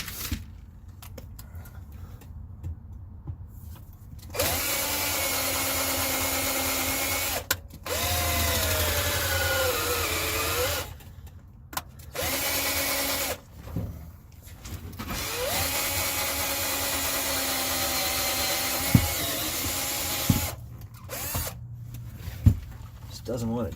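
A power drill whines in long sustained bursts while driving a screw into the soft bathroom floor of an RV, stopping and restarting several times, loud and close, with a voice speaking between runs.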